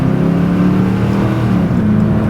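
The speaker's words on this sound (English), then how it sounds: "it does have a nice peppy sound to that V8" A deep, steady V8 engine rumble from a 1990 Cadillac Seville holds at a low throbbing pitch, loud and close, with no voices over it.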